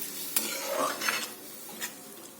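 Boiled soybean dal being stirred with masala in a kadhai makes a faint wet sizzle with a few soft spoon clinks and scrapes over a brief moment.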